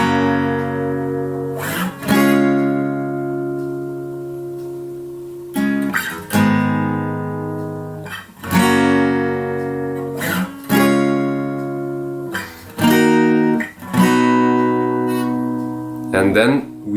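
Guitar strums the intro chord progression of a song: bright chords ring out and sustain, separated by sharp strum attacks every couple of seconds, close and clear with no voice over it.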